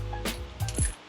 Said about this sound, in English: after you gap your spark plugs, so you just drop them in the hole